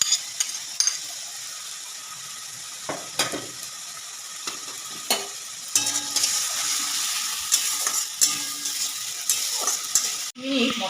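Spice masala for a restaurant-style chicken curry sautéing in a pan: a steady sizzle with scattered scraping and clicking stirs, no talking.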